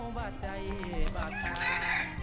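Chickens clucking and a rooster crowing in a busy farmyard, with overlapping bird calls and some background voices.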